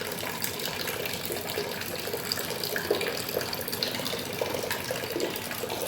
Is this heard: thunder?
no